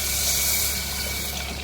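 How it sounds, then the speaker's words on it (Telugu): Water pouring into a cooking pan of oats, a steady broadband rush of liquid filling the pan, close and continuous for under two seconds with no talking. "సరిపడా వాటర్ వేసుకోవాలి."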